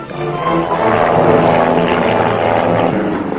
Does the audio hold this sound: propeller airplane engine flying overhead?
yes